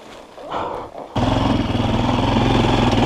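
A Forte CBA 250 enduro motorcycle is ridden on grassy ground, its engine suddenly rising into a loud, steady close roar after a brief quieter rumble.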